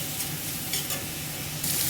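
Shrimp frying in a pan with salt and turmeric gives a steady, close sizzle with light stirring scrapes, briefly brightening near the end; no one speaks.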